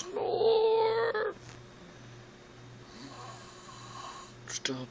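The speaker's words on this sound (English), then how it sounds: "Stop snoring." A person snores: a loud, drawn-out rasping snore up close, then softer, steady low snoring pulses in a quiet room, with a brief sharp noise at the end.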